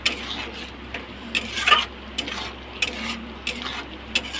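Mustard paste frying with chili powder and spices in a pan for a mustard fish recipe, a soft sizzle under repeated scraping and clinking stirs from a utensil, close and moderately loud.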